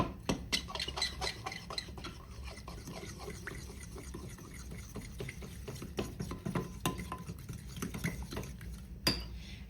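A spoon stirs brown sugar in a mixing bowl for an apple-free pie filling, giving continuous soft scraping and clinking of utensil against bowl, close and moderately quiet, with a sharper knock near the end.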